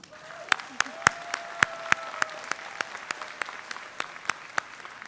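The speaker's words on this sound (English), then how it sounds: "we recognize her with our applause" Scattered clapping greets the valedictorian at a college commencement ceremony, sparse, distinct individual claps spaced in an uneven rhythm, fairly distant and light, with a faint sustained tone beneath.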